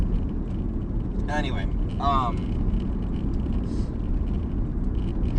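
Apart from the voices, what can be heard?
car driving on a gravelly dirt road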